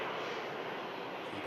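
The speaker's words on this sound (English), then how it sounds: "A lovely bit of prop action on the way out" A propeller aircraft departing Manchester Airport, a broad droning roar heard from a distance and holding steady throughout, with faint voices mixed underneath.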